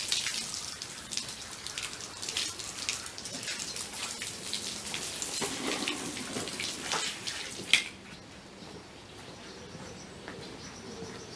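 Hose water sprays and patters onto a dog's docked tail during a wash, a steady splashing hiss that runs for most of the stretch, then cuts off abruptly near the end leaving quiet.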